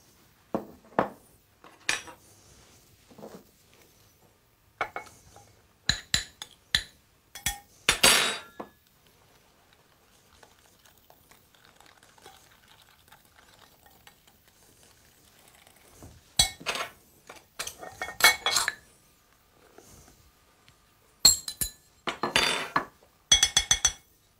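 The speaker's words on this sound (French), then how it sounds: "Oui, vous continuez de battre toujours. Il faut que le sucre fonde." Cake batter for a walnut cake being beaten with sugar in a bowl: bursts of sharp clinks and scraping taps of a utensil against the bowl, close and clear, separated by stretches of near-silence.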